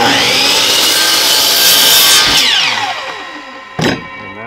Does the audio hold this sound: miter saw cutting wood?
yes